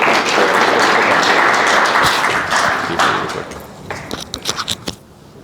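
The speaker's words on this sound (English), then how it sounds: "Let's give him a round of applause." Dense applause from an audience at an AI engineering breakout meetup, loud and continuous at first, then thinning out into a handful of scattered individual claps before fading.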